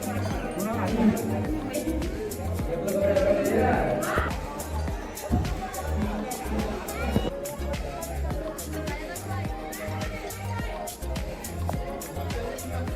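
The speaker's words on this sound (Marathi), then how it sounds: "गर्दी एवढे गर्दी" Busy temple crowd at Madhi: a continuous babble of many voices with footsteps and shuffling, and nearby people talking over the hubbub.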